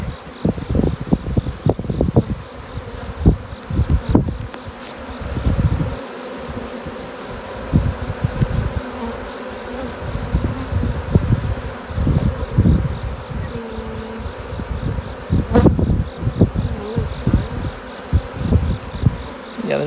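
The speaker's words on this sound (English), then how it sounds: "we'll actually shake the bees down into that hive" Honey bees from an opened hive during a swarm call hum in a steady close buzz, with scattered thumps and handling knocks throughout and a faint high insect tone pulsing in the background.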